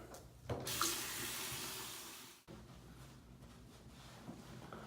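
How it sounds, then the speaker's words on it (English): Water streams steadily from a faucet to rinse shampoo from hair, a continuous loud splashing rush that briefly dips midway before resuming at a lower, steady level. "All right, we're about to rinse this out."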